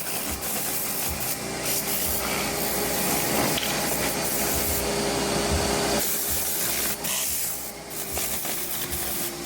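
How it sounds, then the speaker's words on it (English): A vacuum cleaner works through a filthy car cabin, lifting gunk and debris from the interior, giving a steady, loud, continuous roar with small shifts in pitch as the nozzle moves around, with no voices. "I started vacuuming and removing all the gunk and debris in the interior"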